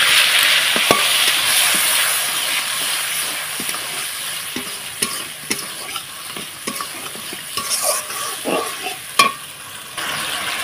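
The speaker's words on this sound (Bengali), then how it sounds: "তো এখন এই মশলাটা এটার মধ্যে দিয়ে ভালোভাবে কষিয়ে নেব।" Banana flower stir-fried with a turmeric, ginger and cumin paste on a wood-fired stove, a continuous sizzle with repeated scraping and stirring knocks from a spatula against the pan.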